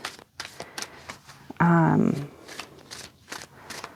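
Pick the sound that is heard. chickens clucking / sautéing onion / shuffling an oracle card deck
shuffling an oracle card deck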